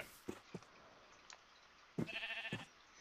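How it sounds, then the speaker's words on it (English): Sheep in the Minecraft 1.9 snapshot give several short game bleats, a couple of faint ones early and a louder, longer bleat near the end, with no voices over them. "Wait, it's a sheep."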